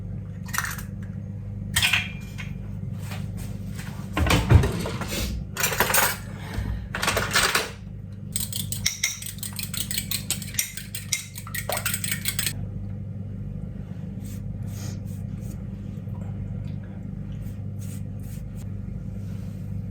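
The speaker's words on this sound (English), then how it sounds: "So let's just get this egg beaten." An egg being whisked in a bowl for a pastry glaze, with quick clinks of utensil against the bowl in short bursts over steady kitchen hum, then quieter handling noises.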